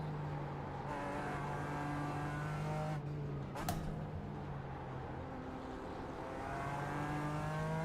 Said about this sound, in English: tell me that 2 GT3s are fighting for position without telling me 2 GT3s are fighting for position